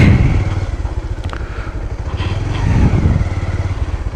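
Motorcycle ridden through hilly countryside in wet, rainy off-road conditions, its engine droning steadily and close with clattering bumps and thuds from the rough track.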